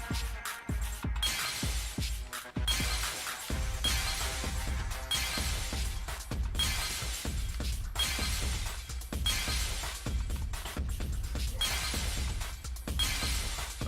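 Pieces shatter in rapid succession during a Danganronpa V3 minigame, a string of bright glassy breaking bursts repeating every second or so at steady loudness, with no speech.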